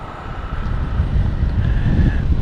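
An airliner on its Ibiza arrival approach into London City Airport, passing over the docks, gives a steady jet roar that swells gradually from moderate to loud, with no voices.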